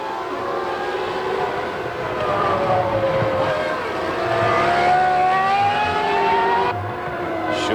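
A 1996 Ferrari Formula One car driven by Schumacher under throttle, its high-pitched engine note rising and falling as he feathers the power, loud and steady over broadcast ambience with no voices heard.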